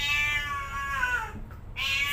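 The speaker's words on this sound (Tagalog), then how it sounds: "Ito lang ang kasama ko dito yung alaga ng pusa." A pet cat meows in a long, drawn-out call that bends in pitch, then breaks off briefly before a second cry starts, close and fairly loud against quiet indoor background.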